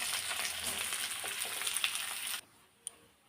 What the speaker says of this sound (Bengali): এখন কাজু আর কিশমিশটা শুধু ভেজে নেব